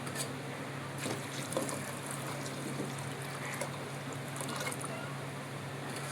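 Water poured into a cooking pot of dried peas seasoned with turmeric and salt, a steady hissing trickle lasting several seconds with faint splashes, close and continuous.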